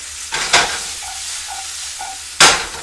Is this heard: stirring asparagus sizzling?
yes